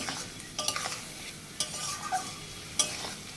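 Spice masala is sautéed in a kadai for a bhetki fish curry with cauliflower and potato. There is a soft, low sizzle with a few sharp scrapes and taps of stirring against the pan, quiet and close, with no talk.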